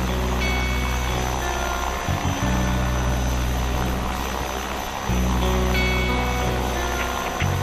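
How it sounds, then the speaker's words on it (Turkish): An aircraft approaches overhead with a loud, steady droning rumble and a propeller-like pulsing throb that swells slightly and holds throughout, with no voices over it. "Sardar, bir uçak geliyor."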